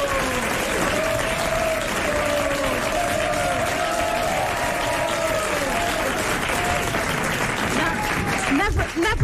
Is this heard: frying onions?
no